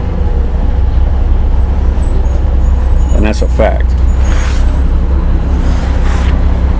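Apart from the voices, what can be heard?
bus pulling up with air brakes hissing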